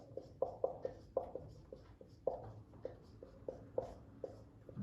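Chalk or marker taps and scratches on a board while a physics equation is written out, in short, quick, irregular strokes, close and fairly quiet, with no talking.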